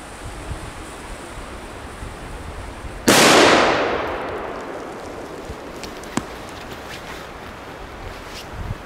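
An El Diabolo firecracker goes off beside a pond in one sharp, loud blast, followed by a long rushing decay that fades over several seconds, with a faint click later and steady outdoor background noise.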